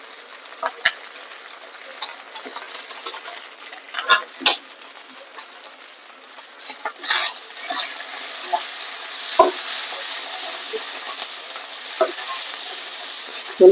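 Mutton curry with Kashmiri chili powder sizzles steadily in a pan while a spoon scrapes and stirs through it in irregular, close strokes, with no talking.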